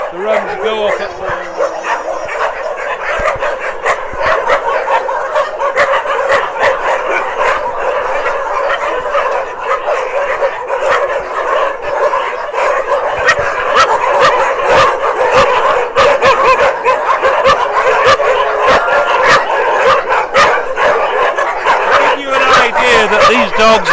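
Many dogs bark nonstop at a dog shelter in Phuket, a loud, dense chorus of overlapping barks, yips and whines close by, with a howl near the start and no letup.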